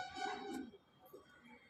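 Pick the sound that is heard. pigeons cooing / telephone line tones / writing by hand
pigeons cooing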